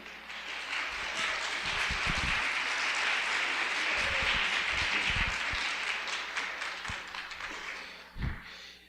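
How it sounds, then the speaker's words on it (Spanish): An audience at a university panel discussion on masculinity applauds steadily to welcome a speaker, a dense, even wash of clapping that holds for about eight seconds before tapering, with a few low thumps mixed in. "Entonces les pido los recibamos con un aplauso."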